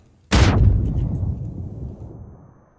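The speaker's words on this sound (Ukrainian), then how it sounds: "Ще одна граната." A single loud grenade explosion in the PUBG battle royale game hits with a sharp boom, then a long rumbling decay fades out over about two seconds, with no talk.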